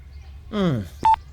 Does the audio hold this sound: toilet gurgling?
no